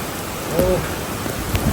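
Storm rain falling steadily on a house under construction with a newly raised roof frame, a broad hiss throughout, with brief faint knocks and a short voice-like tone partway through.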